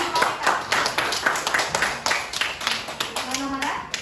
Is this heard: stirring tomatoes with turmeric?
no